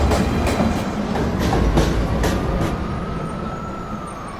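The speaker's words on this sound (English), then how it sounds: "Downtown Local 1 train. Approaching the station" A downtown local 1 train on the New York subway arrives at 207 St station: a steady loud rumble with rhythmic wheel clacks over rail joints and a faint high squeal, heard close from the platform.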